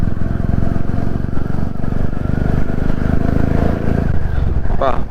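A new Royal Enfield Classic 350 motorcycle engine running, a loud, steady low thump close to the listener that holds even throughout, then eases near the end.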